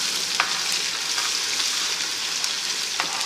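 Garlic ginger paste frying in hot oil with browned chillies as a tadka for whole masoor dal, a steady close sizzle with light crackles and a few stirring clicks, no talking.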